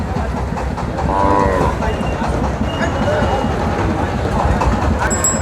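A local bull lows briefly amid the busy hubbub of a Bangladeshi cattle market at Bosunia haat, with someone talking over the crowd noise throughout.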